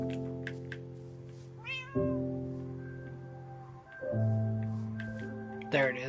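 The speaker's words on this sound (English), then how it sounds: "Hopefully the cat will follow me." Tamed cat in Minecraft giving a few short meows, soft and close, separated by sustained tonal game sounds.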